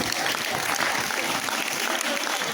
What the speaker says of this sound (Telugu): అది ఒకసారి పై చప్పట్ల ద్వారా ఆహ్వానిద్దాం వాళ్ళని.